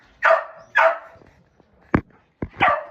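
A farm dog barks several times in sharp, loud bursts, with a pause partway through and a quick double bark at the end.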